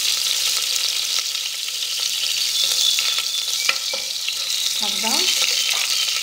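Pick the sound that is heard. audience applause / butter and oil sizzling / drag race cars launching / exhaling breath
butter and oil sizzling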